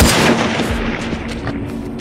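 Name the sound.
gunshot from enemy in video game Hunted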